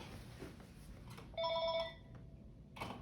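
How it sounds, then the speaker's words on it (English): A telephone rings with an incoming call, one short, bright electronic trill that stands out clearly over a quiet, faintly noisy room before stopping abruptly. "Oh, and I'm getting a phone call."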